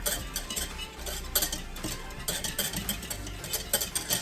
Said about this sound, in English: Keep mixing that all together